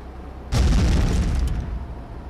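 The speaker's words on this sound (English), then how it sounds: "Biggest explosion in world." A sudden heavy boom as a vehicle explodes in the video game Contraband Police, then a long rumbling roar that slowly fades, loud and close, with no voices.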